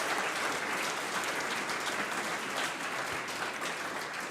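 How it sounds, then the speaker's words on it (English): Attendees at a hackathon solution day applaud a team's presentation, a steady, even roar of many hands clapping at moderate distance with no speech heard. "Applause."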